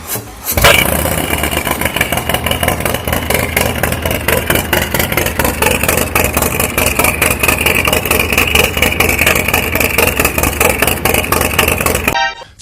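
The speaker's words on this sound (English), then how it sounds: "Blaine, fire it up for him." A Harley-Davidson Street Glide motorcycle engine fires up and settles into a loud, close, steady rapid throbbing idle that runs unbroken, then cuts off abruptly near the end, with no talking.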